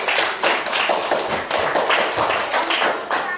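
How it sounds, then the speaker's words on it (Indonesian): A group in a discussion session claps for another group, a rhythmic, even burst of clapping repeating about twice per second, fairly loud and close, with no talk over it. "Tepuk tangan dulu untuk kelompok 3"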